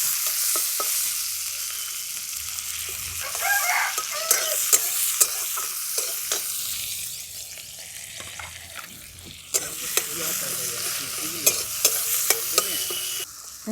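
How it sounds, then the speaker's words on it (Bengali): Onion and tomato fry in a pan, a bright steady sizzle with frequent scraping stirs and clicks of a spatula, close and clear, no one speaking. "পেঁয়াজ আর টমেটোটা ভালো করে ভেজে নিয়েছি"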